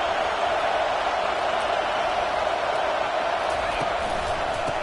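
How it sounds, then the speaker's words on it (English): A dense, constant roar of a stadium crowd in an American football video game, loud and unbroken, with scattered cheers and claps within the wash of noise. "It's early, but this crowd is fired up. Listen to this noise here."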